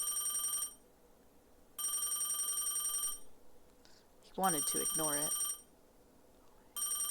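A telephone bell rings in repeated bursts, each about a second and a half long with gaps between them, while someone speaks briefly during one of the rings.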